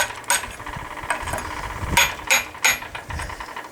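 One hammer strikes another set against the edge of a wooden axe handle to drive it out of the axe head, giving several sharp metallic knocks spaced irregularly over faint background noise.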